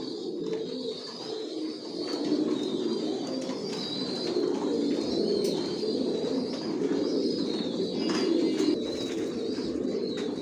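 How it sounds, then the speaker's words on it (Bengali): Johnson line racer pigeons coo steadily in a loft, with soft, continuous, overlapping low calls close by and a faint chirping bird above them, with no talking. "সব লংয়ের কবুতর পালি, জনসন লাইনের অরিজিনাল রেসার"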